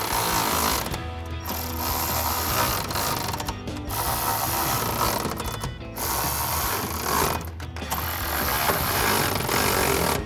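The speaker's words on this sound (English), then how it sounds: "we can take a 13mm socket and wrench to tighten it all down" A 13mm socket wrench ratchets bolts tight on a Tacoma truck bed cap install, with rapid clicking bursts broken by short pauses every couple of seconds, close and fairly loud.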